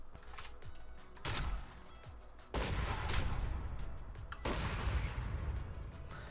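A proximity launcher firing in a video game, a few loud blasts with booming tails and mechanical reload clatter between shots, close and heavy.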